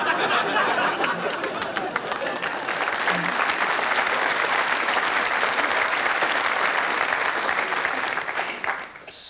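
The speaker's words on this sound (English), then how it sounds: "Spontaneous bursts of applause." Sustained audience applause fills a theatre at An Evening with Spike Milligan, a 1996 stage show, a dense, steady clapping that stays loud throughout and fades slightly at the end, with faint chatter beneath.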